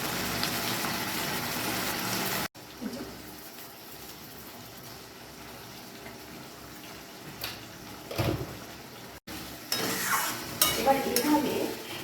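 Spices with salt, turmeric and sugar sizzle softly in a pan for a cabbage dish, with a continuous low frying hiss and occasional scraping stirs, fairly quiet throughout.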